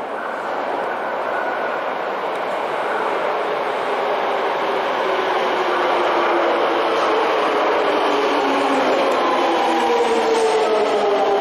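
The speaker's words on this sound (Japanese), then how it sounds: "あれは浅草線5300系。" A Toei Asakusa Line 5300 series train pulls in, its broad rushing roar and rail noise building steadily and staying loud and close from start to finish, with no voices.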